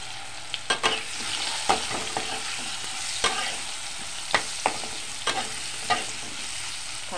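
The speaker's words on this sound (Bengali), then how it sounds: "আলুগুলি প্রথমে ভেজে নেব।" Potatoes fry in oil with turmeric, giving a steady close sizzle broken by scattered scrapes and knocks as they are stirred.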